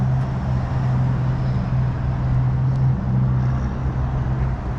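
Steady traffic rumble from a busy road, a constant low drone with no pauses and no voices.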